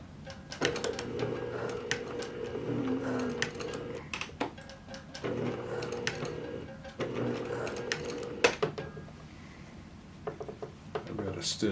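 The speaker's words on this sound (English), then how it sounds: "So I'm going to sew in the ditch to attach the waistband." A sewing machine runs in several short, steady bursts, stitching in the ditch to attach the waistband of a pair of pants. The mechanical whirr stops between runs and is quiet and close.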